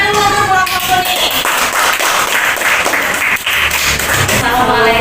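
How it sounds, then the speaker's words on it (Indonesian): A crowd applauds loudly and continuously, dense clapping filling the room with a tonal voice or chant heard beneath it. "tepuk tangan dulu untuk kelompok kuning"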